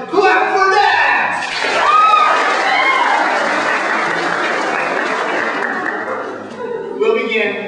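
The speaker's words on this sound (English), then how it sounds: "Clap for that!" A college audience at an Alvernia College comedy show applauds steadily, dense clapping with some laughter and chatter, loud and sustained for most of the stretch before tapering near the end.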